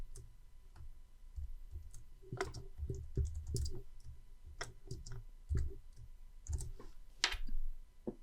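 Keyboard shortcuts tapped on a computer keyboard while working in Excel, irregular clusters of crisp key clicks and presses close to the microphone, some quick bursts and pauses, no talking.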